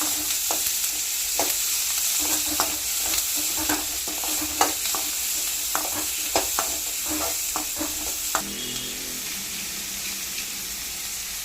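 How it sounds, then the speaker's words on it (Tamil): Onion, garlic, tomato and curry leaves sauté in sesame oil for vathakulambu under a constant sizzle. Repeated sharp scrapes and clacks of stirring land every half second or so, then stop near the end, leaving only the frying hiss. "நல்லெண்ணெய் விட்டு சூடானோடனே நம்ம எடுத்து வச்சிருக்க வெங்காயம், வெள்ளைப்பூடு, தக்காளி, கருவேப்பிலை இதெல்லாம் ஃபுல்லாக நல்லா போட்டு நல்லா வதக்கணும்"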